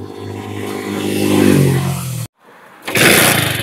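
A motorcycle with starting trouble fires up: the engine revs rise and hold, cut abruptly to silence, then roar back loudly at close range.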